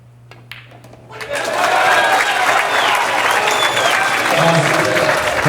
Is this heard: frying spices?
no